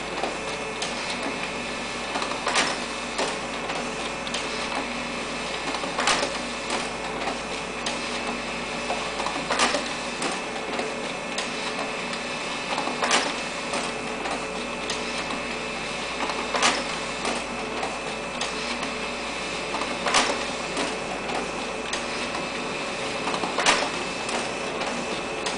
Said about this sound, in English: Here we're doing a run of 17 pages in draft, quality, and black and white, no color,